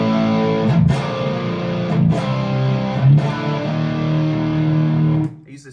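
Electric guitar played through the Angry Chuck amp model on an Axe-Fx channel with treble raised and gain slightly lowered, ringing sustained chords with three strummed changes before cutting off abruptly.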